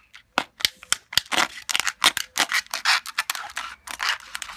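Scissors snip repeatedly through a plastic bottle, a quick run of crisp, close cuts and crunches with short pauses between bursts, no voices.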